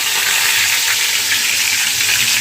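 Mustard seeds, cumin and curry leaves sizzle loudly in hot oil, a dense, steady crackling hiss with tiny pops throughout and no voices.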